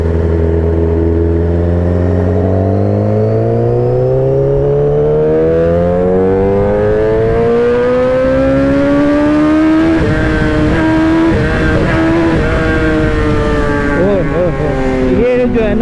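A motorbike ridden at speed, its engine whining steadily higher as it accelerates, loud and close with constant wind roar, then holding a sustained high drone.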